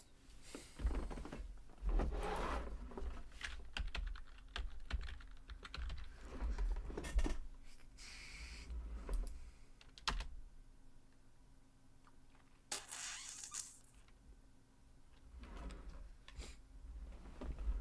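Typing on a computer keyboard while searching for a crypto listing: scattered clusters of soft, close keystrokes with pauses and a few heavier knocks and shuffles over a long stretch, no speech.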